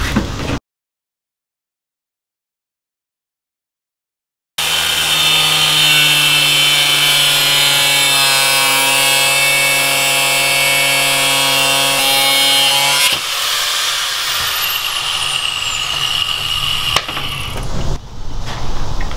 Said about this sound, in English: This reinforcing plate had these big old nasty bolts that we needed to cut down.